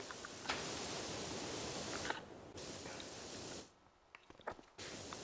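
Spray bottle or sprayer hissing during outdoor community cleaning, several loud sustained bursts of spray broken by short pauses and faint clicks.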